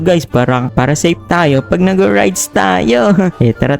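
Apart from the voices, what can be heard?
No distinct noise like a dog, phone or traffic.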